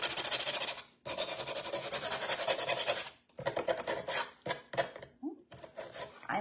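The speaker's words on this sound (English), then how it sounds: "I love my mini sander here." A Mini Gator mini sander roughs up wooden farmhouse shutters in bursts. Long buzzing passes give way to shorter, choppier scuffs with pauses between them, heard close up, and faint voice-like sounds come in briefly.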